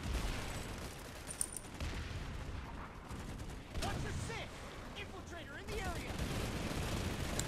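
Gunfire in the video game Planetside 2 crackles in scattered bursts and rattling volleys throughout, fairly faint and mixed with other game noise.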